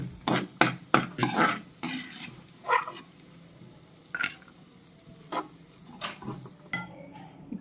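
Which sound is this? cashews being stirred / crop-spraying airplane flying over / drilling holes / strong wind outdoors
cashews being stirred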